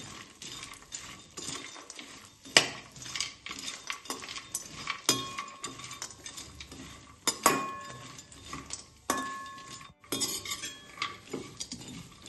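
Edible gum is stir-fried in a pan for dink ladoo over medium-low heat, with irregular metallic scrapes and clinks of a spatula on the pan, close, intermittent and fairly quiet.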